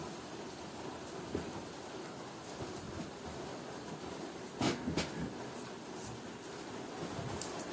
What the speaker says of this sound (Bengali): দেখো কি জোরে বৃষ্টি চলে এসছে